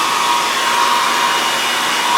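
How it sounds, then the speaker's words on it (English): A hair dryer runs continuously at close range to dry acrylic paint, giving a loud, steady whooshing hum with no breaks. "I get a hair dryer."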